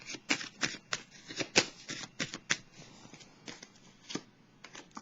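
Tarot cards are shuffled by hand in quick irregular bursts of crisp riffling and slapping, close and fairly quiet, with short pauses between flurries.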